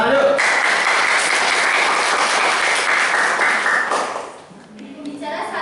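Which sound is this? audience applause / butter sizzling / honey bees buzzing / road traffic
audience applause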